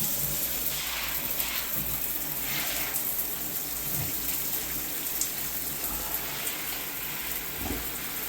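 Water drains steadily from a stand-up shower that was clogged, a soft continuous wash of flowing and trickling water with faint splashes, close by and alone with no voices.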